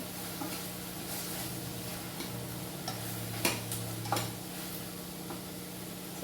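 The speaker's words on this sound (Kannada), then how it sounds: "ಇದೆಲ್ಲ ಎರಡು ನಿಮಿಷ ಮಿಕ್ಸ್ ಮಾಡೋಣ ಎಲ್ಲ ರೋಸ್ಟ್ ಆಗಿ ಮಿಕ್ಸ್ ಮಾಡೋಣ" Vegetables with coriander powder roasting in a pan for aloo kudina bath: a soft steady sizzle with sparse scraping ticks of a spoon stirring, faint and close, with no talking.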